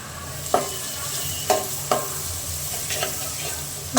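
Chicken pulao ingredients seasoned with turmeric are stirred in a hot pot, giving a constant nearby sizzle punctuated by about five distinct scraping knocks of the spoon.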